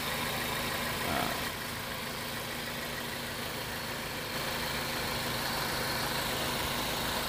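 A 2001 Toyota Altis 1.8 G with automatic transmission idles smoothly, giving a steady, even hum that holds level throughout with no revving and no voices.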